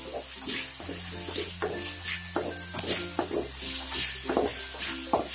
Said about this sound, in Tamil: இஞ்சி பூண்டு போட்டுட்டு நல்லா வந்து வதக்கிட்டே இருங்க.